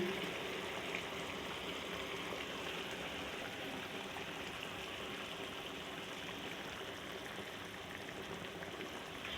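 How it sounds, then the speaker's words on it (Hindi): A pot of water comes to a boil on the stove before eggs go in, giving a faint, even bubbling hiss that holds steady throughout with no voices. "और देखिए बस अभी बॉयल आ रहा है"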